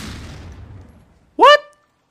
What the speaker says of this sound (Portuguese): Já comecei tomando tiro pra caralho aqui.